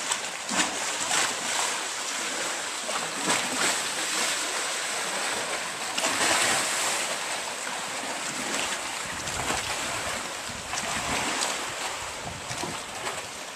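Water waves washing into the rocky inlet at Cave Point, a continuous broadband wash of surf mixed with gusty wind noise, fairly loud throughout with no voices.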